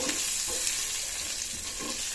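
Sliced onions sizzling and frying in a pan with curry leaves, salt and turmeric, a steady close hiss with occasional stirring scrapes.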